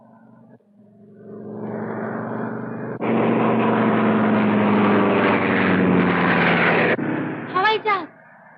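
A propeller airplane flies low overhead in an old Hindi film scene, its engine drone building to a loud, sustained roar before cutting off. Brief voices follow at the end.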